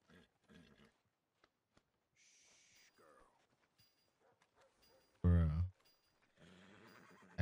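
In Red Dead Redemption 2, a horse gives a loud, short whinny after being punched, heard amid scattered game sounds and sparse speech.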